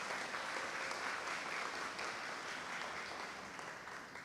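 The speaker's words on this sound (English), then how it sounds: "Can I have another round of applause for Sister Nadira and the poem that we just heard" A commencement audience gives sustained applause for a poem and the graduating students, a dense, even roar of clapping from a large crowd that holds steady throughout.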